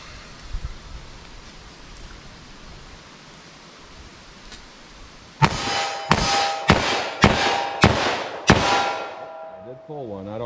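Six sharp .327 Federal Magnum handgun shots ring out at a steady pace, fired at a target 14 yards away, after several seconds of quiet outdoor background.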